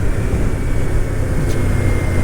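Steady motorcycle engine drone while cruising in 6th gear at about 50 mph on a neighborhood ride under light throttle, a continuous loud low rumble mixed with wind noise and no breaks.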